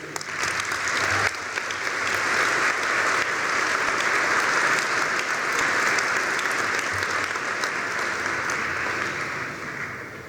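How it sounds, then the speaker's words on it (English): A graduation ceremony audience applauds the faculty and staff, with steady, full clapping from a large crowd that swells quickly and holds evenly before tapering slightly near the end. "Graduates, please join me in applauding your faculty and staff and friends and family."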